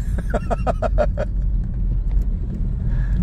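An old Hyundai Trajet in second gear with a Blackcore catalytic converter fitted drives along, its engine and road rumble a steady close drone, with a short burst of rapid clicking near the start.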